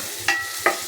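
A continuous crackling sizzle of potatoes frying in a pan, with two distinct clinks of a spatula striking the metal.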